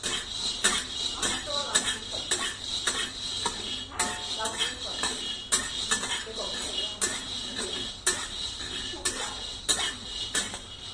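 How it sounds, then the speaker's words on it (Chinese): Dry black beans toss and rattle in a ceramic or clay pot as they are slowly stir-fried, with steady close scraping strokes and crisp clattering bursts repeating roughly every half second. "炒到它声音开始变响亮，"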